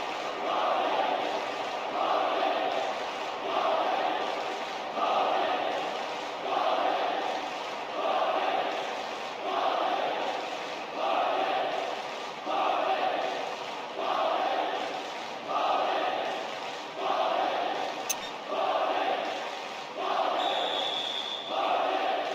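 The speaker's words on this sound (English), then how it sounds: "A huge roar of approval from the record crowd today." A large stadium crowd in the PES 2010 football video game, Real Madrid against Ajax in the Champions League group stage, roars steadily, the noise swelling and falling in regular waves throughout.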